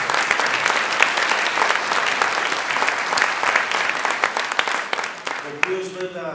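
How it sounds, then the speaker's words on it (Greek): Audience applause at a ceremony awarding Greek-language proficiency diplomas, a dense, steady round of clapping filling the room for several seconds before tapering off near the end, with a voice briefly speaking over it. "Άλλο ένα χειροκρότημα σας παρακαλώ."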